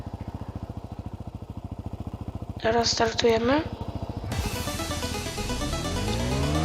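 A motocross bike engine in the Vehicle Legends video game idles with a steady low putter, then revs up and climbs in pitch as it pulls away. Someone speaks briefly over the idle.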